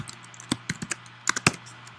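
Computer keyboard keys clicking close by as code is typed, a handful of separate keystrokes in two short bursts with quiet gaps between them, over a faint steady hum.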